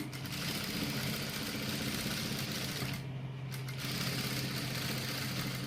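A sewing machine stitches a salwar pant in a steady, continuous whir with a constant motor hum, close and fairly even throughout, with a slight dip midway before resuming.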